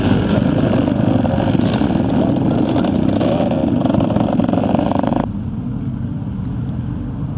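A vintage scramble motorcycle, a Rotaco with a Michael frame and a big 500cc Armstrong engine, races past at the Kendal Classic Revival scramble: a loud, rough, continuous engine roar that drops away sharply as it goes by.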